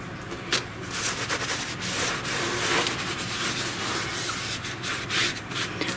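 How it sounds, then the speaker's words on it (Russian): Paper towel being torn by hand into fragments for decoupage, a run of dry rasping rips and crinkles, fairly close and continuous with short sharper tears, no talking. "Самое главное, что фрагменты лучше всего вырывать."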